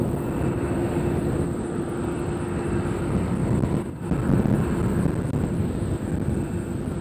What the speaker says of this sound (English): Southwest 635, follow maintain, follow 230. That's a Boeing 737-900. They should land on our side.